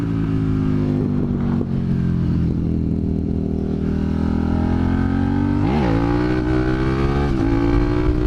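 A 2017 Suzuki SV650 motorcycle accelerates hard through the gears, its loud steady engine drone rising in pitch, dipping at shifts near six and seven seconds, then climbing again, with no talk.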